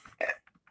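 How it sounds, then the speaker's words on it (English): A Mattel Baby Alive doll gives a single short, throaty burp, fairly close and clear, trailed by a few faint soft sounds in otherwise quiet surroundings. "Oh, she burped."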